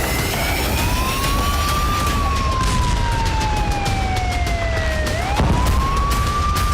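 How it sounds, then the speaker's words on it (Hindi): Wailing air raid sirens sound across Moscow after a Ukrainian missile and drone attack, a steady rising and falling tone that dips, then climbs again, over a continuous wash of distant city noise. "जिसके बाद पूरे मॉस्को में सायरन बज उठे।"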